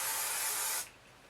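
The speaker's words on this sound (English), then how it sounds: "I'm just going to lightly spray over the curls" A single short burst of hairspray hisses close by for under a second, lightly misting over curled hair, then cuts off to quiet.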